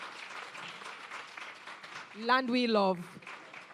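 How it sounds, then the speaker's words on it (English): Audience applause at a trade board export academy launch, a soft spread of clapping under a speaker's voice, with a brief sung phrase rising near the end. "Another round of applause."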